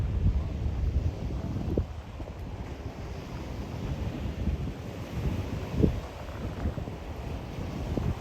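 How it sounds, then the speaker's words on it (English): Ocean waves wash steadily onto South Beach, Miami at night, a continuous broad surf roar with occasional surges and some wind buffeting the microphone. "I want to get you guys right to the water, just so you could hear the waves."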